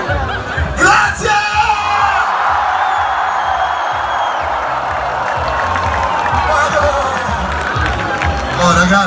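A concert crowd at an outdoor show in Gallipoli yells, whoops and cheers loudly and steadily, a dense roar of many voices close around the listener.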